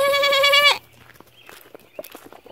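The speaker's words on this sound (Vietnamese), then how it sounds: "Bên kia hai con dê con nè." Baby goats on a farm bleat in one loud, sustained, wavering cry, followed by quiet rustling and scattered small sounds close by.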